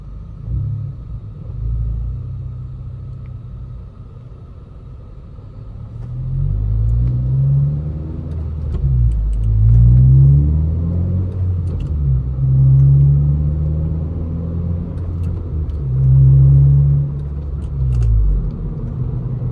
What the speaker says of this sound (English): Thing with this exhaust is it's not too loud